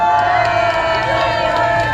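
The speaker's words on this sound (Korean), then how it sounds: "큰 박수 부탁드리겠습니다." A crowd at a candlelight rally in Gwangju cheers and claps, a dense, loud, continuous roar with voices shouting and whooping throughout.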